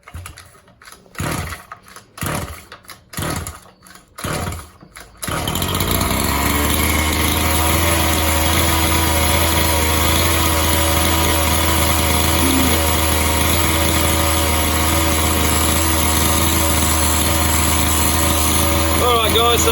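A Can-Am Maverick ST with a standard muffler cranks over in several short bursts, then catches and settles into a loud, steady idle that runs without a break to the end.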